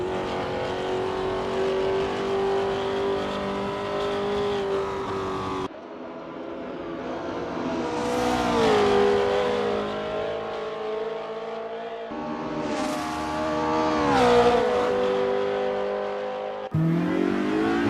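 A Porsche 904X race car from the WSC60 endurance series in Assetto Corsa at Spa revs and accelerates repeatedly, loud engine pitch climbing through gear shifts, with short gaps between pulls and no talking.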